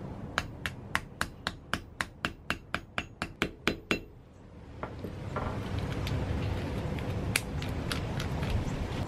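Steel rivets hammered on a makeshift block to mushroom their ends, about fourteen sharp metallic strikes in a quick, steady rhythm, then a lower rumbling workshop noise.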